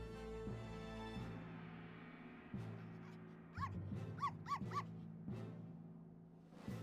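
Dog barking in the Professor Layton vs Phoenix Wright video game, a few short yipping barks over looping background music with low droning tones.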